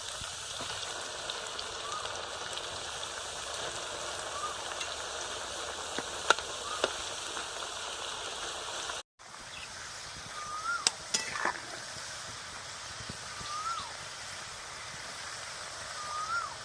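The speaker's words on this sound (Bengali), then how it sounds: "এইভাবে আমি সবগুলোই আলু ভেজে নেব চিপসের জন্য" Potato slices for chips fry in hot oil with a steady, even sizzling hiss and scattered small pops. There is a brief pause near the middle, and no voice is heard.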